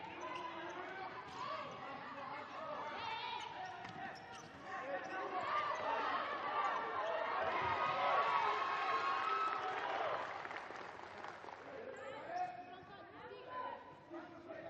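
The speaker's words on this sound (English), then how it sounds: "Both sets of substitutes loudly cheering on every tackle, every battle out there." At a women's futsal match between Madagascar and Senegal, substitutes cheer and shout from the sidelines amid crowd noise and a bouncing ball, swelling louder midway, with a commentator talking over it.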